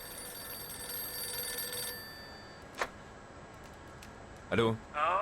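A telephone rings twice inside the video game Mafia II, sharp trilling bursts near the end after a brief click, over a steady game backdrop.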